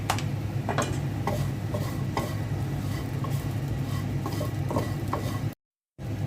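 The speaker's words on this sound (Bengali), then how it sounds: "এখন ভালো করে ভেজে নেব দিয়ে দিচ্ছি লবণ" Mashed vegetables fry with salt in a pan, giving a steady low sizzle with scattered stirring clicks and scrapes, close and even, briefly cut to silence near the end.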